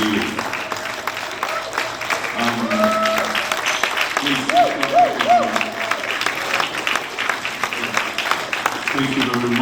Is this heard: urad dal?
no